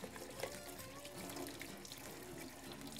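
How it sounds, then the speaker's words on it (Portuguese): Running tap water splashes steadily over a kitchen sponge being rinsed of excess toothpaste after cleaning a stove burner, a continuous close trickle and splash with no talking. "lavar, tirar o excesso da pasta de dente"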